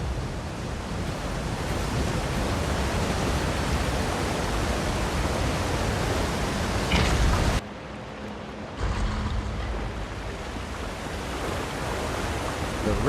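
A waterfall rushes steadily in a cave in The Elder Scrolls Online, a broad continuous roar of falling water that briefly drops out and then returns.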